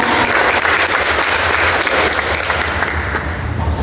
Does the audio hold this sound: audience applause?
yes